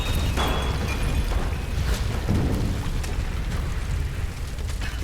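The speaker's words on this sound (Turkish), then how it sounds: "Patlama oldu vallahi mağara çökecek" A cave explosion in the Tomb Raider video game, a broad continuous rumbling roar of crumbling debris that stays loud and steady throughout with no talking.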